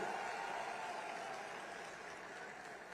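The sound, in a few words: audience applause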